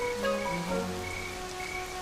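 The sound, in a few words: rain in the Serengeti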